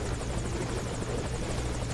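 A helicopter's rotor beats steadily in the video game Metal Gear Solid V: Ground Zeroes, with rapid, even chopping pulses over a low engine drone, loud and close.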